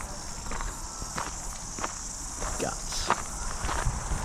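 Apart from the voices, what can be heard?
footsteps walking around old building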